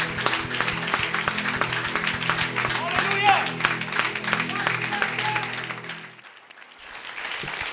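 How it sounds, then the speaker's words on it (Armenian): A church congregation claps in a dense, steady burst of applause with music playing underneath, loud throughout before dropping away sharply near the end. "եկեք ծափարենք Տիրոջը"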